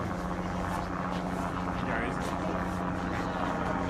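A helicopter-like drone hovers nearby with a steady, loud buzzing rotor drone and a constant tonal hum, held at an even level throughout.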